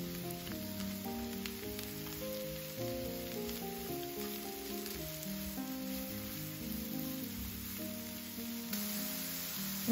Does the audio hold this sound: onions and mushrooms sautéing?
yes